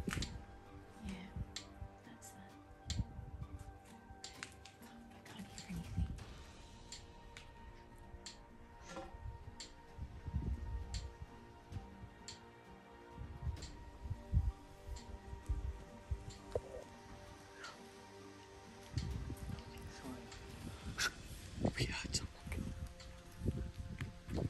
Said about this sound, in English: It's the ticking of the power thing up there.